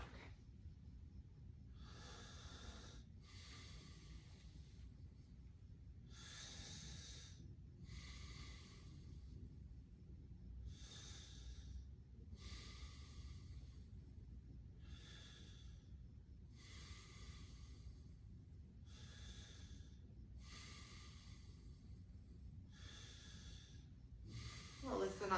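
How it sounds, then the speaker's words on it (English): A patient takes repeated slow, deep breaths during a head-to-toe stethoscope exam, about ten breathy inhale-exhale cycles at a steady rhythm, close and soft over a low background hum. "would you just take a deep breath for me?"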